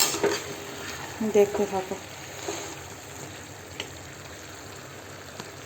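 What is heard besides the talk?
chicken being stir-fried (kosha) in a pan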